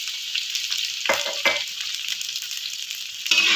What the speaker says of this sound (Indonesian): Lalu kita tumis atau kita aduk-aduk seperti ini ya teman-teman ya